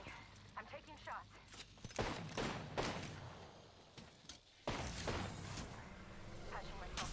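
Bursts of gunfire in the video game Apex Legends, Season 15, with several sharp shots and short volleys scattered irregularly across the span, loud and close amid game sounds.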